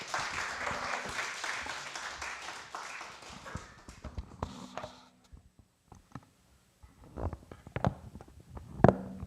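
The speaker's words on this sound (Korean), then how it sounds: "목사님 앞으로 나오실 때 우리 박수로 한번 환영하겠습니다." Audience applause at a church seminar in Busan welcoming a pastor to the front: dense, loud clapping for several seconds that thins out into scattered claps, taps and thumps.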